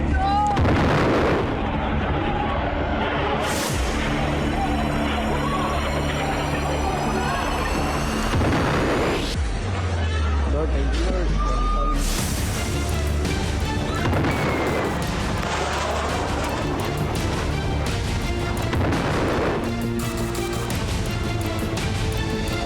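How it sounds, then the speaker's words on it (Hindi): Missile attack by Iran's IRGC, with loud booming explosions and bursts of artillery fire, heavy rumbling blasts that repeat over a dense, continuous roar. "आईआरजीसी की तरफ से जारी मिसाइल अटैक का ये वीडियो"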